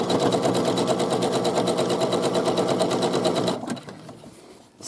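A sewing machine runs fast and steady, stitching a fabric seam with rapid even clatter for several seconds, then abruptly stops, leaving a brief quiet with faint handling noise.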